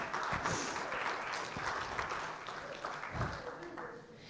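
A church congregation claps together as a dense, continuous patter that fills the room for several seconds, with a voice faintly mixed in.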